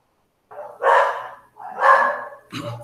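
A dog barks twice in loud, separate bursts about a second apart, and a third bark starts at the end. No one talks over it.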